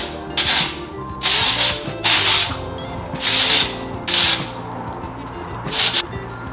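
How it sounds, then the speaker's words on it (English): Texture spray from an aerosol can misted at the hair roots, about six short hissing bursts in a loose rhythm, close and loud, over soft background music. "So I'm gonna take some texture spray from Unite. I love Unite. Spray it up here at my roots too"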